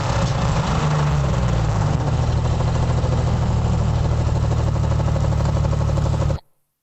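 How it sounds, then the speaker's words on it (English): A steady, loud engine drone with a low rumbling hum runs continuously, alone, then cuts off abruptly at the end. "the engine sound of a vehicle"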